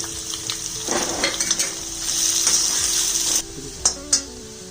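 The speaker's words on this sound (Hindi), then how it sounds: "ਥੋੜਾ ਪਿਆਜ਼ ਪਾ ਦਾਂਗੇ ਥੋੜਾ ਕਲਰ ਚੇਂਜ ਕਰ ਲਾਂਗੇ ਪਿਆਜ਼ ਦਾ" Onions frying in a pan: steady close sizzle with spikes as the onions are stirred, plus a few clinks of a utensil against the pan near the end.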